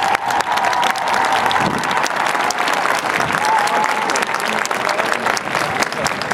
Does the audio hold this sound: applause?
yes